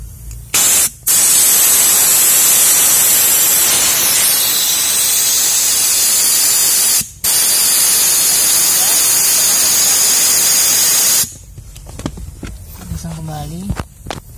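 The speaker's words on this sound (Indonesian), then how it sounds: "Sini kita semprot pakai air gun ya." An air gun blasts a loud, harsh hiss of compressed air through a clogged drain on a Toyota Avanza, in long continuous bursts with brief breaks, followed by quieter handling noise and someone speaking.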